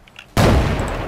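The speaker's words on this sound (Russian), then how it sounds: "Такими выстрелами" Gunfire in the video game Ravenfield, a sudden loud burst of shots that erupts after a quiet moment and stays dense and roaring, with a few faint high pings over the top.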